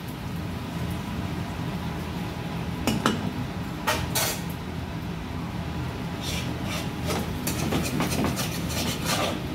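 A spoon scrapes and clinks against a kadai while vegetable khichuri is stirred in a Bengali home kitchen, giving sparse metallic knocks and scrapes over a steady low background hum.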